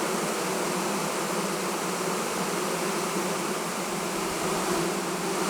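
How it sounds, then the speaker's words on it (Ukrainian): A dense swarm of honeybees hums steadily at an alpine hive on a sunny day, crowding the top of the colony in a close, continuous buzz with no pauses. "Ось така кількість бджіл тут"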